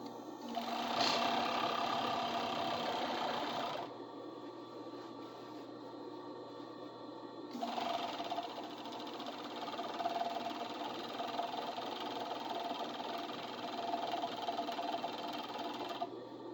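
A serger runs steadily while overlocking the edges of fabric for a kilt, its fast mechanical hum stopping for a few seconds and then resuming for a long continuous run, close and even.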